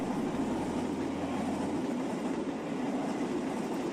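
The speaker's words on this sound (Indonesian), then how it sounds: "Iya, CC206 melintas dan menurun kawan." A model CC206 locomotive hauling three cars runs along its track. The result is a steady, close rumbling roll with rail clatter for several seconds and no speech.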